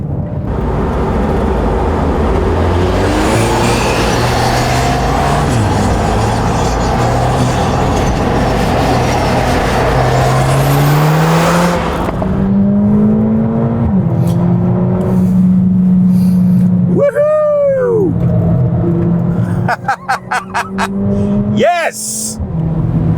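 A Mercedes-AMG A45 S or CLA 45 S drives hard on a racetrack, its engine droning loud and rising through gears with shifts, then easing as pitch sweeps swing past; a person talks over it near the end.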